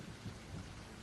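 Steady rain pattering with a low rolling rumble of thunder, used as storm ambience in a tabletop role-playing session set in a swamp; brief, quiet and without voices.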